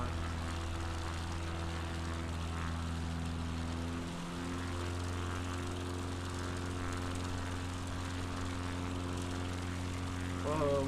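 A propeller airplane engine drones steadily throughout a bush flight over Patagonia in Microsoft Flight Simulator 2020, with a constant low hum and a slight dip in pitch midway.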